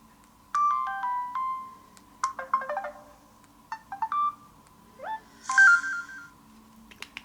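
Samsung S5230W Star WiFi phone playing a series of short electronic message notification tones, several distinct melodic chimes and beeps separated by brief pauses, clear and alone.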